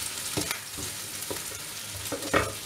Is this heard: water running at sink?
no